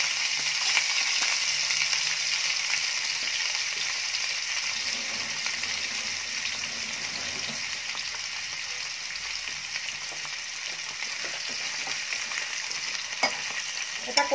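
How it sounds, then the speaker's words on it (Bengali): Radishes frying in hot oil in a wok, a steady continuous sizzle with occasional stirring scrapes, close and moderately loud with no talking throughout. "ভালো করে লাল লাল করে ভেজে নেব"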